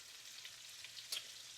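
Onions and carrots fry in a pan with a steady, quiet broadband sizzle, plus one brief brighter crackle near the end.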